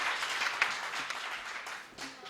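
Audience at a Hindi poetry recital claps steadily in a dense, continuous burst that holds at even strength for a couple of seconds, with no voices over it.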